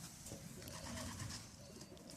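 Racing pigeons coo softly inside a loft, the faint murmuring calls half buried in a dense, hissy background.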